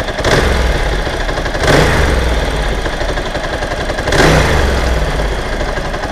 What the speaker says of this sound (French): Une fois chaud et ralenti réglé, on est déjà un peu mieux.